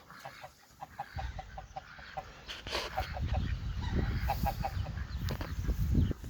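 Pekin and Rouen ducks call in a farmyard pen, a run of repeated quacks in short bursts at moderate distance over rustling and low background noise, growing busier partway through.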